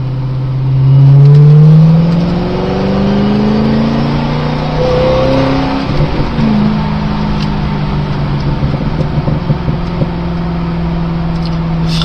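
A Corvette C6 Z06 engine pulls hard along a winding road, its deep exhaust note rising and falling through the revs, loud and close with steady road roar underneath.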